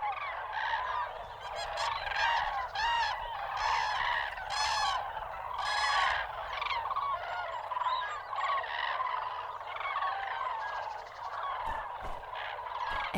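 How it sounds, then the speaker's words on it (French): Common cranes call at dawn on a national nature reserve by a pond, a dense overlapping chorus of loud trumpeting, bugling voices rising and falling continuously, with a low steady background hum. "les grues se réveillent avec le soleil levant"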